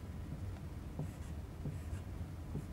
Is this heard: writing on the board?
yes